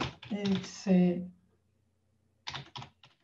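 Computer keyboard keys clatter in a couple of brief, close bursts of clicks, preceded by a short stretch of talking.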